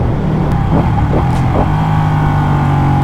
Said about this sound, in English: Some downshifts. I love how this bike sounds, but man, it needs an exhaust.